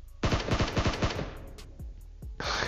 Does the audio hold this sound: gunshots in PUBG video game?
yes